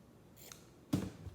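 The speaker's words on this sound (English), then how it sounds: "Handy scissors, handy scissors." Scissors snip through quilt fabric in a quiet sewing room, a faint first cut followed by one louder, crisp close-up snip.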